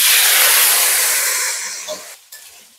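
Cut potatoes and tomatoes dropped into hot tempering oil in a pan, a loud burst of sizzling hiss that fades and settles over a few seconds.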